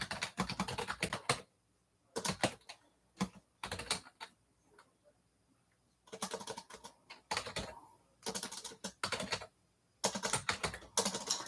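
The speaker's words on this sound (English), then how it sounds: "sorry about all the typing noise." Rapid clattering bursts of typing on a computer keyboard come in several flurries separated by quiet pauses, close and fairly crisp, with no voices over them.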